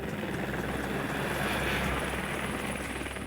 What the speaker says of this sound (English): The Te Anau police waste no time dispatching a search helicopter.